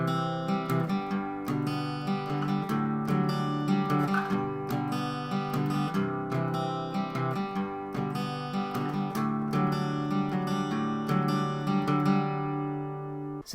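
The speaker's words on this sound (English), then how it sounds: "It's a picked version of the chords we did in the verse" An acoustic guitar fingerpicks the chord progression of the bridge of a song in a steady, even pattern of plucked notes, played close and clear without any singing or talk.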